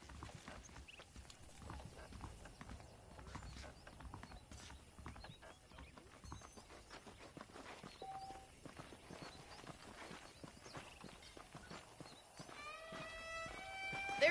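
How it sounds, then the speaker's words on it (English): Saddled horses in the Red Dead Redemption video game clip-clop steadily at a walk, hooves thudding close and continuous, with a horse whinnying near the end. "The horses are saddled up over here."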